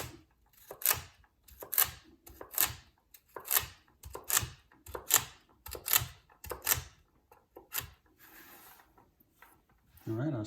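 A knife chops through celery on a cutting board in a run of crisp, quick taps, about a dozen sharp strokes at an uneven pace, close and fairly quiet, with no talking.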